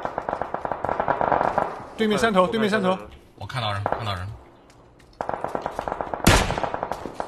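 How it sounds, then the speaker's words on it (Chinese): Gunfire in the battle royale game PUBG: loud rapid bursts of automatic shots in a steady rhythm, stopping and starting again, under excited talk from players and a sharp blast near the end. "你没听到这么多枪声吗？"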